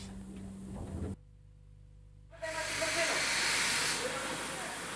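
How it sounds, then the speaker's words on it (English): A steam locomotive's brake air exhausts from the train pipe with a sudden loud, broad hiss after a brief quiet gap, following a low steady hum, the rushing air continuing strongly to the end. "To apply the brakes, the driver exhausts air from the train pipe."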